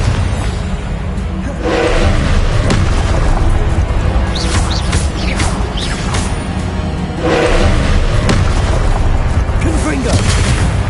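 Confringo fire spell explosions in the Hogwarts Legacy video game, a low rumbling boom with bursts of blast and whooshing, swelling twice and set amid constant dense game noise.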